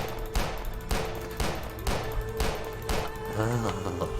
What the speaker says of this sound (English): I'm just gonna keep shooting.